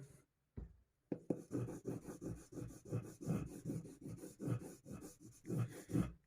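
White polishing compound is rubbed onto a leather strop for sharpening a hunting knife, a quick run of close, rhythmic scratchy strokes after a short pause, fairly quiet.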